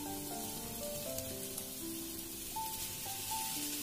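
A tomato masala bubbles in a pan with a continuous, even sizzle and spatter, while faint sustained musical tones play softly underneath.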